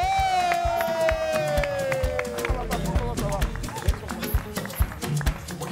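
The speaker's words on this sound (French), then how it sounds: "je vais vous demander de faire du bruit s'il vous plaît pour l'excellent Jean-Michel Onin" A studio audience breaks into applause and cheering, with clapping building and growing denser in the second half, while a host talks over it at first.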